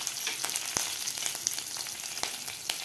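Curry leaves, a pinch of asafoetida and slit green chillies crackle in hot oil with steady close sizzling, punctuated by a few sharp spits and pops.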